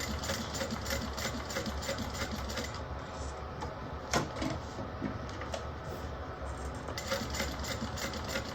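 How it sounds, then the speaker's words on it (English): A sewing machine top stitches a fabric bag close by, its rapid needle hum running continuously and loudly, with one brief sharp click midway. "now I'm going to top stitch right below 1/8 of an inch below that"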